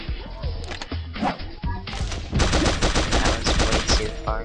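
Gunfire in the Pixel Gun video game, with rapid close, loud bursts of shots that grow into sustained rattling fire, while a player talks over it.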